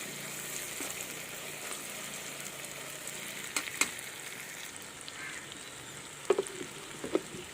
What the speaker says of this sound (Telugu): ఈ పేస్ట్ వేసుకొని ఒకసారి పచ్చివాసన పోయేదాకా వేయించుకుందాం.